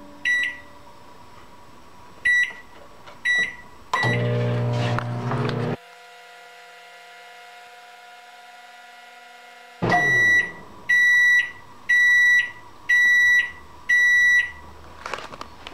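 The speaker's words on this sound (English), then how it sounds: "we're gonna stick this back in the microwave for another 20 seconds" A microwave oven reheating a bowl of melted marshmallow and butter mixture for Rice Krispies treats runs with a steady hum, stops, then gives a series of loud, evenly spaced beeps near the microphone.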